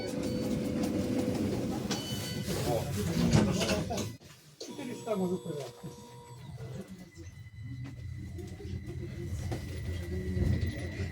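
A Tatra KT tram pulls away from a stop, its motor whine and wheel rumble building alongside rattling, with a voice speaking over the start.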